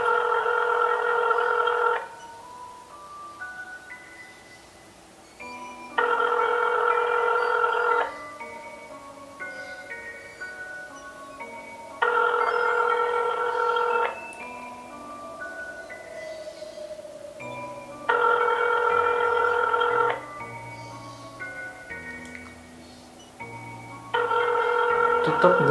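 An unanswered phone call rings on, with loud electronic ringback bursts of about two seconds each repeating roughly every six seconds and softer tones faintly audible in between.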